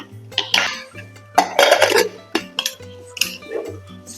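Metal utensil scrapes and clinks against a pot of Kerala sambar in short irregular bursts, close up, with a low hum underneath.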